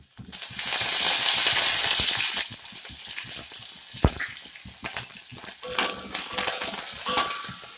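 Garlic pieces and curry leaves dropped into hot oil for egg curry, a loud hissing burst of sizzling that settles after a couple of seconds into quieter crackling and stirring clinks.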